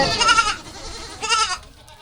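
Goats bleating nearby in a rural village setting, two loud wavering cries a second apart, the second slightly shorter, with faint background noise.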